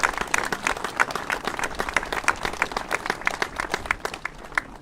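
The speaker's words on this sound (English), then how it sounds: "I want to give you a round of applause too because you deserve it" A crowd claps steadily in a round of applause at an outdoor memorial ceremony for the 75th anniversary of the Exercise Tiger tragedy on Slapton Sands, the dense clapping held at an even level throughout.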